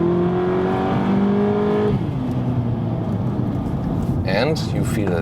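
A light front-wheel-drive car accelerating hard on a racetrack, its engine droning loudly and rising in pitch before a gear change, with a voice talking over the steady engine noise.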